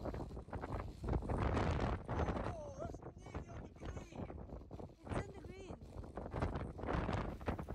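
Strong wind buffets the microphone on an open golf course, roaring steadily throughout and mixing with someone talking.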